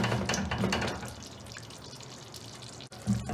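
Water poured into a pot of cooking curry for bhindi gosht, a soft splashing and trickling that fades to quiet, then a brief louder gurgle near the end.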